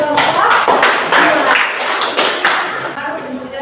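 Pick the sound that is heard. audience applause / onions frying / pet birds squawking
audience applause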